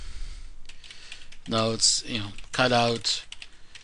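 Close computer keyboard typing heard as soft, quick key clicks under a man's speech, with a louder stretch of clicking in the middle.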